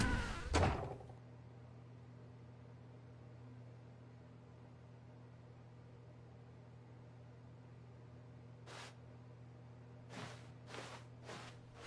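A door opening in the game The Stanley Parable gives a short thump at the start, then a steady low hum of office ambience with a few faint clicks later on.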